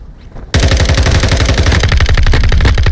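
An SMG fires in Call of Duty MWII, a loud, close, rapid automatic stream of shots that bursts in abruptly after a quiet start and keeps a fast, steady rhythm to the end.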